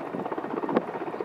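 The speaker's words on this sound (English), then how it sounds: "It's a big old chopper." A big Mi-17 helicopter landing, with a steady loud rotor throb and engine rumble close by and a brief sharper burst partway through, with no talk over it.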